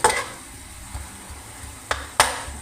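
Onions frying to light brown in a pan give a faint, steady sizzle, with a few brief scraping stir clicks and utensil taps near the end and no voices.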